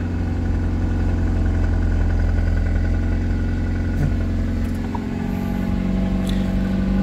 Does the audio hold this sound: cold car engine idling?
yes